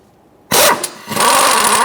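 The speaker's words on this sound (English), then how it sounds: "I'm going to use a 19mm socket on an impact and remove the crank pulley bolt." An impact wrench with a 19mm socket hits the crank pulley bolt on a 2003-2007 Honda Accord, a sudden loud harsh burst that dips briefly and then resumes in a sustained close-up rattle.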